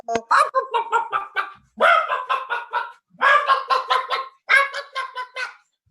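A person imitates a chicken in four bursts of rapid, clucking cackles, each a quick string of choppy squawks, loud and close with short pauses between.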